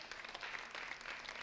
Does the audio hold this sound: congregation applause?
yes